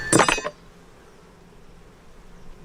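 Honey bees and drones crawling on a hive frame with honey and larvae: one loud, close buzz for half a second, then a faint low hum.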